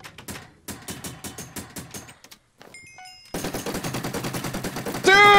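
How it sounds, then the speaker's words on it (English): Rapid bursts of automatic gunfire in a Minecraft game, several quick rattling volleys, a short pause with electronic beeps, then a sustained loud stream of shots. "Laying down that cover fire."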